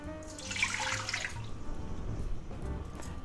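Water poured into an Instant Pot, a steady broadband splashing rush that starts strong and settles into a softer trickle, heard alone and up close.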